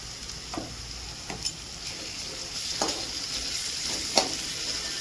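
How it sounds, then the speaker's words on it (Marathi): Ginger-garlic paste fries in a pan with a steady, bright sizzle, broken by a few spaced stirring strokes across the surface. "आता हिला चांगलं तळून घ्यायचं"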